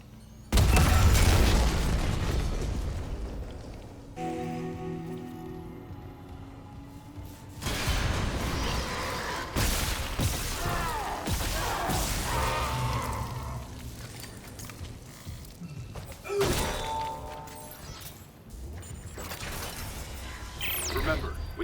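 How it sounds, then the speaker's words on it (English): A detonation with shattering glass in the Dead Space Remake: a loud thudding boom opens, followed by long stretches of rumbling, creaking debris and mechanical clatter, with a voice speaking between the impacts. "Take cover to detonate."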